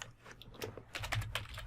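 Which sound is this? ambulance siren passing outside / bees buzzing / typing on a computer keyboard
typing on a computer keyboard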